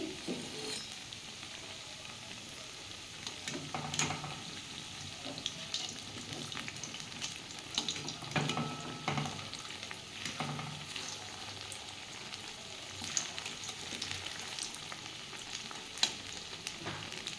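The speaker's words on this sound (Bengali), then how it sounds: "আমার তেলটা গরম হয়ে গেছে আমি তেলের মধ্যে এগুলো দিয়ে দিয়েছি" Rice pakoras made from leftover cooked rice fry in hot oil, giving a steady, fine sizzle with bubbling crackle throughout and occasional brief bursts, close and moderately quiet with no talking.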